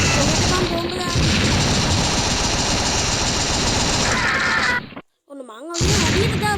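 Rapid gunfire and explosions from the Mini Militia mobile game, a dense loud barrage of shots and booms that runs almost continuously, then cuts out briefly before firing resumes with a wavering tone.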